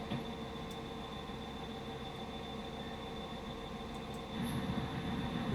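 A locomotive in Train Simulator runs at low speed, a steady mechanical rumble with a faint continuous hum, swelling slightly louder near the end as it slows to a crawl.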